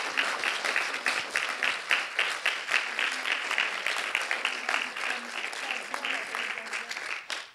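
Steady audience applause at a mental health public meeting, many hands clapping densely and evenly at moderate distance, sustained throughout with no talk over it.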